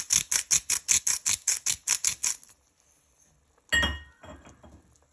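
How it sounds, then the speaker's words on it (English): A spoon clinks steadily against a bowl while stirring a seasoned beef and mushroom mixture, about a dozen bright even taps, then a pause and a single duller knock. "Just give that a little bit of a stir."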